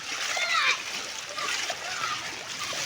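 Children play and splash in rainwater outdoors during heavy rain, with a bright continuous splashing wash and a voice faintly mixed in.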